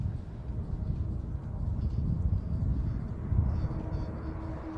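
Two-ship French Air Force jet team from the École de l'Air arriving at an air show for an opposition break, a distant broad roaring rumble that swells slightly, with wind buffeting the microphone and no talk.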